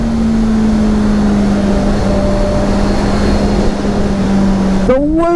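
A 2023 Honda CBR650R sport bike engine winding up on a ride, a loud steady high whine holding pitch over wind rush, then a sharp upward rev near the end.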